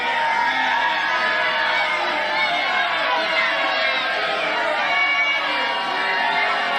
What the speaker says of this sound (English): So the person starts heckling and people start booing and Trump just stops.